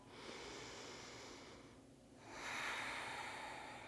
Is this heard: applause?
no